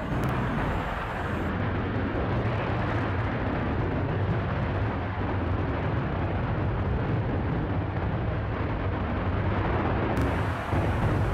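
The rocket motor of the Virgin Galactic Unity22 spaceplane firing, a continuous broadband roar that is dense, rough and unbroken, heard steadily for about eleven seconds with no voices.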